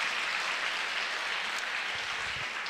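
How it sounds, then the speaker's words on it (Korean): A church congregation claps steadily at a revival meeting, a dense continuous wash of hands throughout with no voices on top. "박수 좀 쳐봐라"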